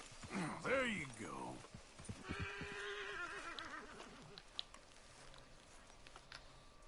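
Horse neighing in Red Dead Redemption 2, with a loud, close whinny early on and soft hoof clip-clop following, while voices talk faintly underneath.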